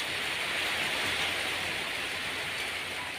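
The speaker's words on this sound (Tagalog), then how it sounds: "Grabe ang ulan ngayon." Heavy rain pours steadily during a thunderstorm with strong wind, a dense continuous hiss that stays loud and even throughout with no voices.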